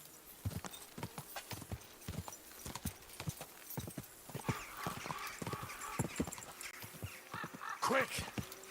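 Horse hooves clip-clop in a steady trotting rhythm in the video game Kingdom Come: Deliverance 2, close and crisp, with a horse whinnying partway through and voices mixed in.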